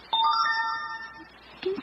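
A mobile phone sounds a short text-message notification tone, a bright chiming melody of a few rising notes at moderate loudness, followed by a brief softer blip near the end, with no talking.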